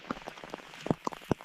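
Monsoon rain falls in a forest as a scatter of separate drops tapping nearby surfaces at an uneven pace over a faint, steady wash, with no talking.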